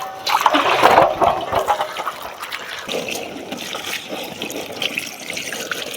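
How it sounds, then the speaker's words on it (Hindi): Running water as taro leaves and green chillies are washed in two or three changes of water, a splashing, rushing wash that is loudest early on and settles into a steady trickle and slosh, with no talk. "लाए हुए अरबी के पत्ते और साथ में हरी मिर्चों को ना हम 2 से 3 पानी से अच्छे से धो लेंगे।"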